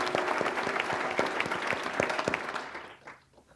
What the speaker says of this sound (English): How about another round of applause for our student panel?